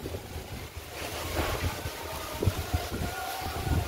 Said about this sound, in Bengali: আজকেও আস্তে আস্তে ঝড় উঠে গেল